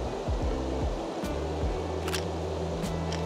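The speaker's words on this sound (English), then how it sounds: "it might be a bit noisy with the Rems, the little river." The small river Rems in Schwäbisch Gmünd rushes in a steady broadband wash close by, with faint brief clicks and other sounds over the flow.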